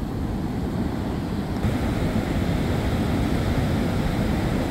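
Ocean waves break at a beach in a loud, continuous rush of surf, low rumbling wash with steady broadband noise and no talk over it.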